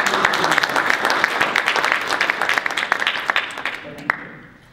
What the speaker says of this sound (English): I just want to like really give them a round of applause for the work that they did